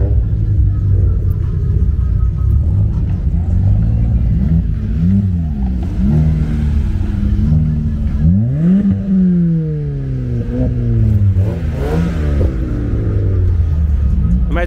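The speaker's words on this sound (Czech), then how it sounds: "a už se tady jezdí." Cars circle laps at night at JAPFEST 2023, their engines loud and close, rising and falling in repeated revving sweeps as vehicles pass one after another over a constant rumble.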